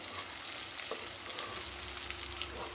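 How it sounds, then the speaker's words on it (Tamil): Onions sautéing in a pan for a stuffed ladies finger stir fry give a steady, close, even sizzle and crackle throughout, with no talking. "வெங்காயம் வதங்கட்டும் வெங்காயம் நல்லா கலர் சேஞ்ச் ஆகிப்பாங்க"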